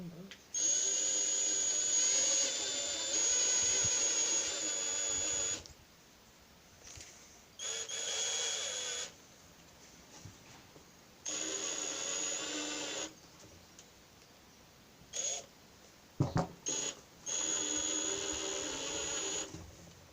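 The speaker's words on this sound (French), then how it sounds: "Bon, on perce." A drill bores a hole through a homemade cork in repeated bursts of high whining, each lasting a few seconds with short pauses between.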